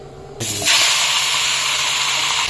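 Duck meat tipped into hot oil in a kadai sets off a loud, steady sizzling hiss that swells sharply after a brief quiet start and holds strong to the end, with no talking.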